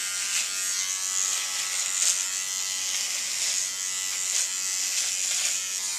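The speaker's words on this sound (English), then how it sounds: "I'll start shaving away. And I always shave against the grain." An electric shaver buzzes steadily and close up as it moves against the grain of facial hair, a continuous high whine with small swells in intensity, alone without talk.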